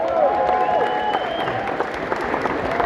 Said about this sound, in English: So round of applause for Tim.